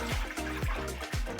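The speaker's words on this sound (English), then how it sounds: "We're going to fill up the water tank to the max level." Water pours in repeated gurgling glugs into the water tank of a De'Longhi Dinamica coffee machine as it is filled to the max level. The splashing is close and quiet, with a steady rhythm.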